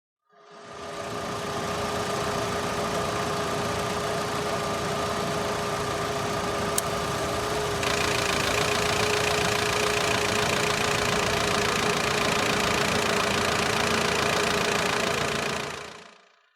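A Fiat 500 engine running on petrol or LPG, a steady, even hum and vibration held for about fifteen seconds with a slight shift in tone midway, heard alone without talk.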